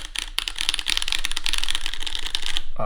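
Fast, continuous typing on a custom sandwich-mount mechanical keyboard with a firm, slightly hollow build, a dense run of crisp clacky keystrokes heard up close with no voices.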